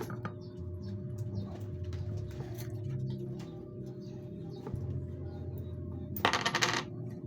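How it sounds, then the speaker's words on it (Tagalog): Coins being rummaged for inside a bag, giving scattered small metallic clinks and jingles close by, with a denser jangle near the end over a low steady background hum. "Hanap po tayo ng barya, pang baon ng mga kidos."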